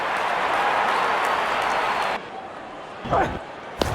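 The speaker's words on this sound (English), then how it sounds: "Wonderful 50 and the crowd applauds." Broadband crowd applause at a cricket match, celebrating a batter's fifty after a six, fills the first two seconds and then cuts off abruptly, followed by quieter ambience and a couple of brief thuds.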